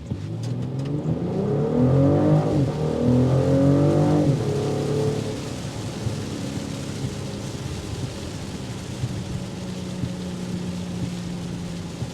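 A 2025 BMW X5 accelerates hard on a wet road, its engine rising in a loud, climbing roar through a gear change, then settling into a steady drone with road and tire noise.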